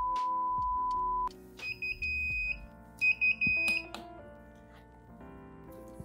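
An aquarium temperature controller's low alarm sounds after the heater failed and the water dropped below 72 degrees, a steady electronic tone followed by repeated high-pitched beeps in short bursts.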